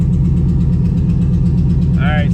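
An LT1-swapped Mazda B4000 with a misfire runs at a steady, loud, rough idle, its exhaust putting out a rhythmic popping. A brief higher whine comes near the end.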